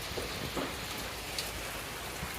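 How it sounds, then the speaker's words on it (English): Steady, dense rain pouring down in a continuous broadband hiss, with scattered louder drops landing close by. "It is literally raining so much out here."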